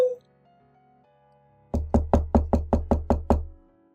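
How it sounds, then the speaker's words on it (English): A rapid series of about nine hard knocks on an entrance door sounds close and evenly spaced, following a soft ringing tone as a story sound effect. "I heard the entrance doorbell ring and the sound of knocking."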